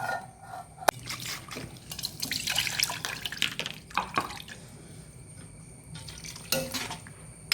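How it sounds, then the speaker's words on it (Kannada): Water poured into a ground masala for a coastal Karnataka colocasia leaf curry, heard as soft close splashing and dripping with light clinks of a utensil against a pot, no talking. "ಇನ್ನು ಸ್ವಲ್ಪ ನೀರನ್ನು ಹಾಕ್ಕೊಳ್ಳೋಣ."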